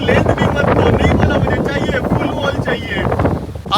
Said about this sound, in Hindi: क्योंकि इतनी तेज हवा चल रही है ना, तो स्लाइड ऐसे पूरी हिल रही है वो